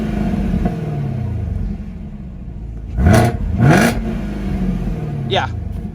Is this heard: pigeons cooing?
no